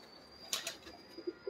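Lakha pigeons take off with a quick burst of flapping wings, two or three soft, close wingbeats followed by faint rustles in an otherwise quiet scene.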